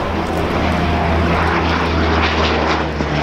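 A Hawker Hurricane's piston engine roars loud and steady at an airshow, a constant close propeller drone filling the whole moment without talk.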